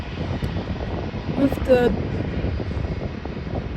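An Airbus A320 airliner in bare-metal livery rumbles at Leipzig airport with a steady, broad engine roar close by, while someone talks briefly over it.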